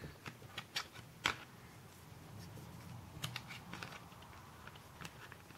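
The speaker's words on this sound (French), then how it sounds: "Donc là je me mets dans le coin et je coupe." Polymer clay (Fimo) being sliced with a blade while shaping an ice cream cone, heard as a few faint, close, sharp clicks and taps spread over a quiet background.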